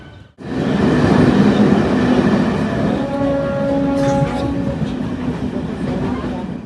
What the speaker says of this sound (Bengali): আর এই ট্রেন দিয়ে আমরা এখন শ্রীনগর যাব